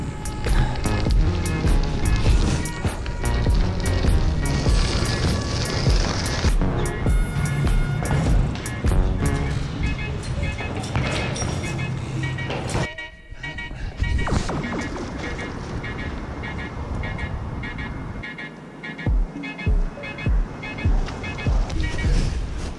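Bike ride outdoors with loud, continuous wind rush and rolling tire roar over the ground, punctuated by rattles and clunks, a brief drop in noise midway, then more riding.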